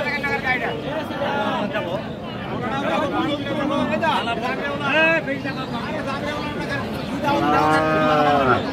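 Cows and calves at a busy cattle market in Aftabganj, several drawn-out moos repeating close and loud over a steady crowd babble and nearby talking.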